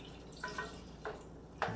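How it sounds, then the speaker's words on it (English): Small amounts of water are poured into a Filipino-style chicken curry with coconut milk, giving three or four brief, soft splashes over otherwise quiet kitchen background. "And I'm just adding a little bit of water."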